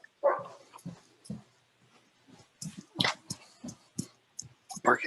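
A dog barks in a few short bursts with whimpering yips in between, fairly faint behind a quiet online meeting with talk.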